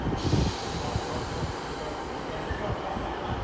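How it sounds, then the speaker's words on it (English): A Great Eastern Railway passenger train pulls out of Exeter St Davids station bound for Paignton, a steady low rumble of wheels and engine rolling on at moderate distance under faint background voices. "going out now will be the Great Eastern Railway service to Paynton"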